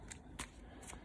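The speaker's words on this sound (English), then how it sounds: "Okay, so we give these a shuffle" Board game cards from a Battlestar Galactica Exodus expansion being shuffled, three quick faint riffling bursts over a low steady room hum.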